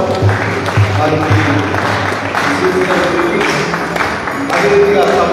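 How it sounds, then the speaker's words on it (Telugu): Audience applause at a college Christmas celebration gift presentation in a hall, a steady wash of many hands clapping over low background hum, heard without talk. "చప్పట్లు కొడతాము వారికి."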